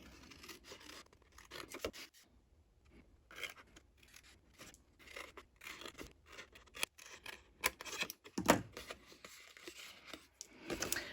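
Scissors snip through paper for a holiday craft project, a quiet, irregular series of close, crisp cuts and rustles with short pauses between strokes.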